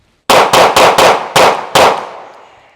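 Six loud, sharp handgun shots ring out close by in a drawing drill at seven yards, four quick shots in a fast even rhythm, then two more after a short pause, with the last one decaying into a ringing tail.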